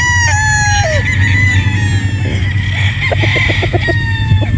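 A Sweater Boston gamefowl rooster crows loudly and close by, with a drawn-out call followed by a run of rapid clucking notes over a constant low hum.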